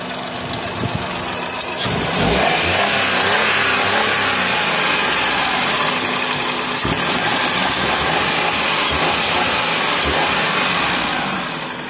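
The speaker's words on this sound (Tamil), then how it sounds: "இன்ஜினுடைய சவுண்ட் குவாலிட்டியை நீங்களே செக் பண்ணி பாருங்க." A used 2015 Maruti Suzuki Alto 800 car engine runs at a used car market in Madurai, settling into a steady, even idle hum that continues with no talking.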